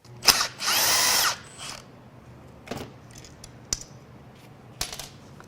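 Cordless power tool driving out Torx screws on a 2023 Audi e-tron drive motor unit, a loud sustained whir of about a second followed by sparse clicks and clatter of loosened parts.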